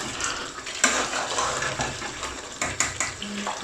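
A spoon stirs lamb korahi, a mutton mix, in a pot, with scraping and clinking knocks over a soft bubbling of the sauce. There is no talk.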